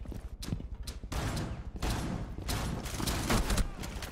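Rapid bursts of gunfire from Rainbow Six Siege, a tactical shooter game: several loud, close volleys and single shots packed together, with short gaps between clusters of shots.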